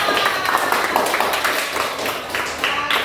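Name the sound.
children clapping in class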